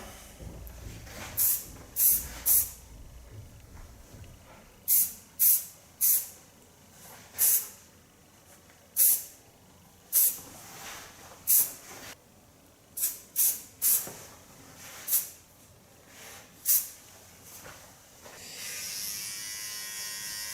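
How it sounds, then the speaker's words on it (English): Lanza hairspray misted in short hissing bursts during a short feminine haircut styling, about fifteen quick sprays in an uneven rhythm, close and clear, ending in a longer continuous hiss. "Now you need hairspray of Lanza."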